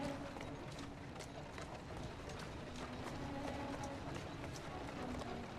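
A horse walking in the video game Assassin's Creed Syndicate, with a steady clip-clop of hooves on city streets over a dense ambient bed and a faint voice in the background.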